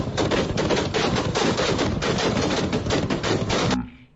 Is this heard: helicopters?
no